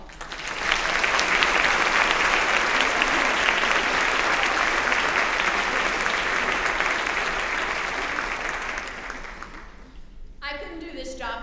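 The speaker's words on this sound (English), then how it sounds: "Please give this board one round of applause." An audience at a 2012 district convocation applauds the board, a dense, sustained round of clapping lasting about nine seconds that fades out before a voice begins speaking.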